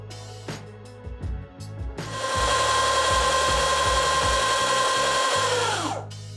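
A Surron Light Bee X electric dirt bike at maximum power setting lets out a loud, steady high-pitched electric motor whine that starts abruptly after a few mechanical clicks and knocks, holds for several seconds and then winds down.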